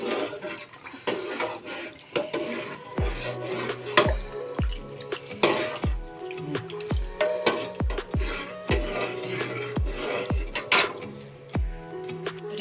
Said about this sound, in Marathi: इथे मी फ्रूट्स सगळे असे कट करून घेत आहे बारीक बारीक. केळीसुद्धा आणि ॲपलसुद्धा.